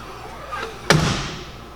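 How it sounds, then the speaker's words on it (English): A car door shuts with a single sharp, solid slam partway through, preceded by a faint rustle and followed by a brief low rumble of the cabin settling. "Close the door."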